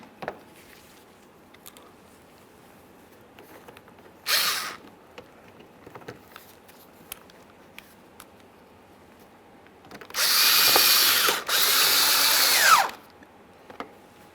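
Power drill backing out the side bumper mounting screws on a 2013-2020 Ford Fusion, with two short close bursts of whirring, the second longer and briefly broken, amid quiet workshop clicks.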